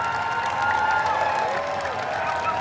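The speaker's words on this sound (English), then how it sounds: "Well-wishers lined the route, throwing flowers, cheering and clapping as her hearse passed" Crowds of well-wishers lining a route cheer and clap as the Queen's hearse passes, a dense, continuous wash of applause and distant cheering with no single voice standing out.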